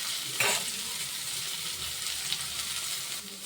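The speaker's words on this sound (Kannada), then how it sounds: "ಈರುಳ್ಳಿ ಚೆನ್ನಾಗಿ ಫ್ರೈ ಆಗ್ಬೇಕು ರೀ" Onions fry in a pan with a constant close sizzle, broken by a sharp scrape of a stirring spoon early on and occasional light clinks.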